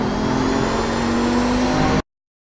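An Audi 90 GTO race car in iRacing at Road America, its engine holding a loud, steady, high-revving drone under full throttle for about two seconds before cutting off abruptly into silence.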